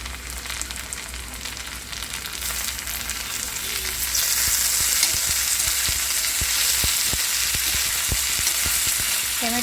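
Chopped tomatoes frying with onion in a pan: a steady, close sizzle with crackling, and scattered sharp clicks of stirring that grow busier toward the end, with no talk.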